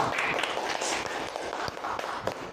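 An audience at a campus talk show claps to welcome the student president of Universitas Perjuangan Tasikmalaya, a continuous crowd of hands pattering at moderate volume from start to finish without talking.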